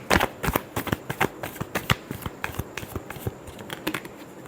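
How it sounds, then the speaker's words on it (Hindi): Tarot cards shuffled by hand, a quick run of crisp, close riffling snaps and flutters in an irregular rhythm, loud and alone. "last shuffle"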